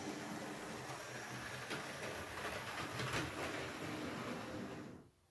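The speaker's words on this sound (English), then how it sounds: "it is one of my most powerful and smoothest running locos" Model Southern Railway West Country class steam locomotive with tender running on track, a steady close mechanical whir and rail rumble with faint rhythmic clicking that cuts off sharply near the end.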